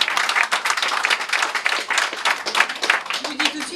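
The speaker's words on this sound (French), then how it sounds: "Je voudrais qu'on applaudisse très fort Sandrine" A crowd gathered for a Women's Day political event applauds loudly for Sandrine, vigorous close clapping in uneven surges, with voices mixed in underneath.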